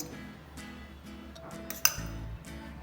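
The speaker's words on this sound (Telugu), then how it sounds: "అన్నీ వేసుకుని బాగా మిక్స్ చేసుకోవాలి." A spoon clinks and scrapes against a bowl while gram flour stuffing with salt, chili powder and a little oil is mixed for stuffed mirchi bajji, several soft scraping strokes with one sharper clink, close and quiet, with no talking.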